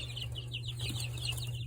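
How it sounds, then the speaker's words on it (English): Golden and crescent legbar chicks peep in a quick run of high, rising chirps, close and fairly soft over a steady low hum, with no talk. "Look at them baby chickens"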